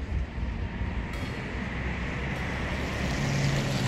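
A German bullet train gives a steady, loud rushing rumble that swells slightly over a few seconds, with no voices.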